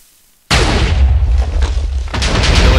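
Minecraft TNT cannon firing, a sudden loud blast after a brief silence, then a sustained rumbling roar of repeated explosions with deep low-end boom, close and continuous with no talk.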